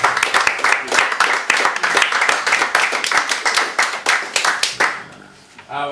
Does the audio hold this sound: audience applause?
yes